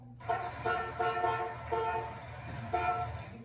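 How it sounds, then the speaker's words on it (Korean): The horn of an old, dirty, run-down car honks loudly nearby in a series of blaring blasts, some short and some held, with low engine rumble underneath. "빵빵 이렇게 헝킹"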